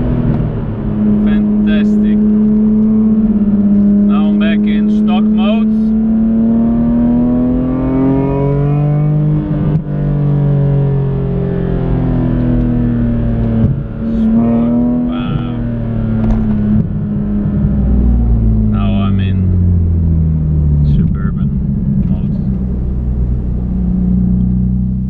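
Car engine droning steadily at varying revs in stock mode while driving laps of the Nürburgring, loud and continuous, with shifting pitch as it accelerates and eases off, and a voice talking over it.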